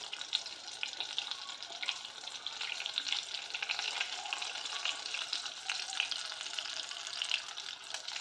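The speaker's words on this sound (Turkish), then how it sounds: "Evet arkadaşlar bu şekilde kızaracak." Bread slices fry in hot oil, making a continuous crackling sizzle with scattered pops. The sound is close and steady throughout, with no voices.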